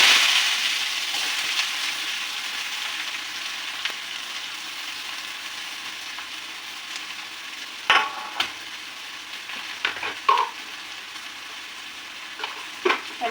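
Onions fry in a pan of oil with popped mustard seeds, a soft steady sizzle fading gently, while occasional stirring scrapes and clinks sound up close.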